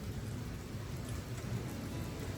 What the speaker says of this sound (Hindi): तो मस्त ये बारिश